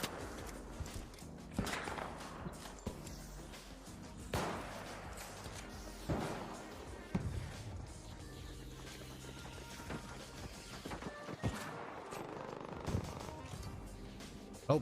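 Scattered gunshots crack through the Arc Raiders video game trailer, sharp separate bangs and thuds at moderate distance, fairly faint within a busy mix.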